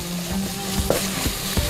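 Carrots and finely minced fresh ginger sizzle steadily in a pan, with a few sharp scrapes and knocks as a utensil stirs them, close and without talk.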